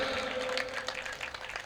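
Brief applause from a poetry-reading audience at a comedy gathering: a short, even wash of many hands clapping, moderately loud and steady throughout, with no speech over it.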